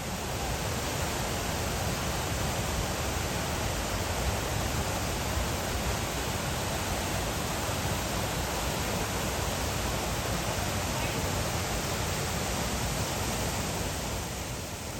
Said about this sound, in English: This particular waterfall is very pretty.